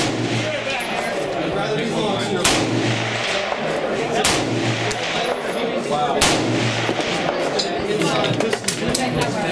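A .308 AR rifle with an American Trigger Corp trigger fires several sharp, spaced shots at an outdoor range. A steady generator-like hum and some talk sit underneath.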